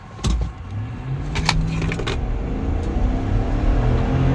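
A Chevy Tahoe Z71 with a 5.3-liter V8, 355 horsepower and a 10-speed transmission accelerating hard from a stop: a steady, loud engine drone rising in pitch through the run, with a few clicks and knocks early on.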